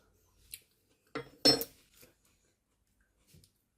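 Metal spoon clinking against a dish while tasting rhubarb fool in a home kitchen, a few short, quiet clinks and scrapes spread out with pauses between them.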